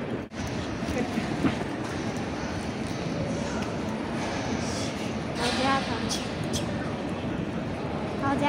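A high-speed train bound for Guangzhou, heard at a station near the Yangtze: a steady, loud broadband rumble and rush that fills the whole clip, with faint squeaks and clatter midway and no clear talk over it.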